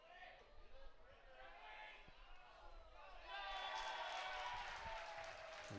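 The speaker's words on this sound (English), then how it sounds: "the reason for the cheer is the Bat Boy makes his 3rd appearance of the game" A minor-league baseball crowd at a Madison Mallards game in Wisconsin Rapids cheers after the bat boy catches a foul ball. A commentator talks throughout, and the cheering swells partway through and is heard faintly from a distance.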